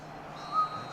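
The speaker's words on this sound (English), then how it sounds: "And the half-time whistle goes." A referee's half-time whistle in the eFootball video game sounds as a thin, steady tone, brief and fairly faint over low crowd ambience.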